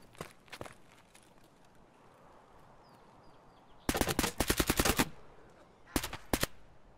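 Automatic gunfire from an Escape from Tarkov match, with two sharp bursts of rapid shots, the longer volley mid-clip and a shorter one near the end, after quiet ambience with footsteps.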